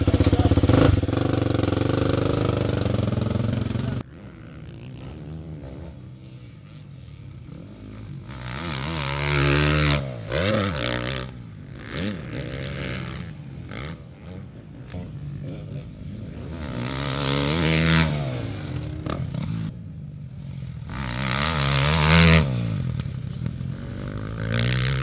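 A 2023 Husqvarna FC 350 dirt bike engine roars loudly for several seconds, then drops back and surges again in repeated revving swells and blips, close by and with no voices over it.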